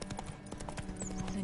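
The horse in The Witcher 3 gallops, its hoofbeats sounding as quick, steady clip-clops over a dense background of game sound.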